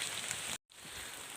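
Steady rain falling outdoors, a faint continuous hiss that breaks off for an instant and then resumes, with no voices.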